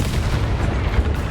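A Confringo spell blast from Hogwarts Legacy, a loud, rumbling boom-like burst that fills the whole short moment.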